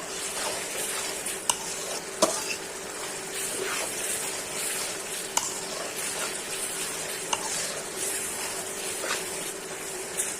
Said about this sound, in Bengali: কোয়া করে রসুনগুলো দিয়ে কষাইতেছি মশলাটা।